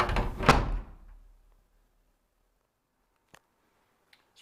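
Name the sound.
storeroom door being closed and secured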